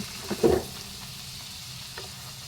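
Food fries in a pan over low heat with a soft, steady sizzle, a short louder clatter of stirring near the start and a faint tap later, close by with no talk.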